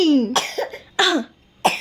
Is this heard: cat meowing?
no